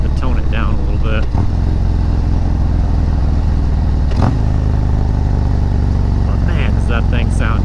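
A motorcycle fitted with a Fuel Moto 124 big bore kit and S&S 475 cam, heard riding through a slow school zone. Its loud, steady low engine rumble runs throughout, with brief clatters and a voice talking over it.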